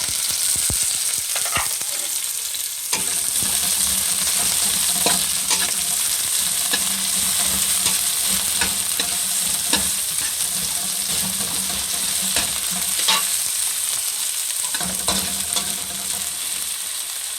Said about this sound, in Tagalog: Sunod na natin yung sibuyas mga guys.